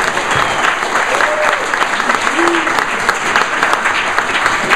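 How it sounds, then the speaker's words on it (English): A crowd claps steadily throughout at a startup competition winners' announcement in Milwaukee, a dense, even wash of applause with no talking over it. "Can we get a round of applause for that?"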